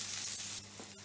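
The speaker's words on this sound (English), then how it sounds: "Obviously I washed the onions, so it's got a bit of water, that's why it's sizzling away." Washed, wet onions sizzle and crackle steadily in a hot frying pan, a bright hissing fry heard up close for about a second with no voices.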